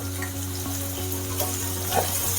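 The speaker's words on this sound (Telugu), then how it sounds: "ఉల్లిపాయ వేయగానే మంచిగా వేగుతుంది, మాడిపోకుండా ఉడికినట్టుగా మంచిగా వేగుతుంది" Chopped onion fries in oil for a bitter gourd masala fry, with an even, close sizzle and light stirring over a constant low hum in the kitchen.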